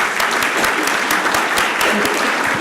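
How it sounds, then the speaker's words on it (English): Steady, dense applause from a city council meeting audience fills the room at close range, continuous clapping with no speech over it. "let's give them a round of applause"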